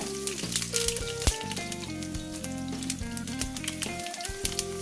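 Four cloves of finely chopped garlic hit hot oil with a piece of cinnamon bark while cooking a mango chicken curry, giving a steady, close sizzle throughout with soft music in the background.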